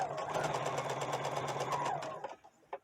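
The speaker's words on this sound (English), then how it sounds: "I just want to line it up with the edge of my foot and sew straight across that shoulder." A sewing machine stitches straight across the shoulder seam of doll clothes, a fast close mechanical whir running steadily for about two seconds before slowing and stopping with a couple of final clicks.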